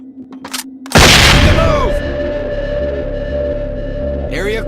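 A flashbang grenade in the SWAT 4 tactical shooter goes off in a sudden, loud, close blast after a few faint clicks, leaving a high ringing tone and a low rumble that fade slowly.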